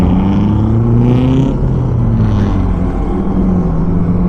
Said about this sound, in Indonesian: Kita tes akselerasi. Ini gaspol kita.